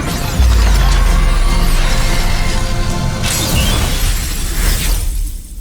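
Loud glass shattering in the VR game Glassbreakers: Champions of Moss, a dense crashing burst with a deep rumble underneath, sustained and swelling for several seconds before tapering off.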